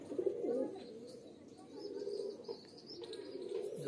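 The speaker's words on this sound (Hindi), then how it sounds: "हमने कबूतर उतारा है" Soft, low cooing of a pigeon repeats several times close by, with faint chirps and light rustling around it.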